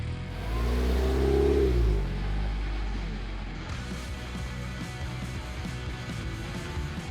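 A Toyota-powered Snark ATV engine revs hard for about a second as the vehicle claws up a ledge off-road, then settles into a lower, uneven idle with rumbling mechanical noise.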